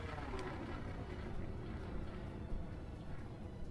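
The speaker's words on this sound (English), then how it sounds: "Afterburners." Spaceship afterburners firing in Elite Dangerous: Horizons: a continuous low, rumbling roar with broadband hiss, steady and moderately quiet, with no distinct bursts.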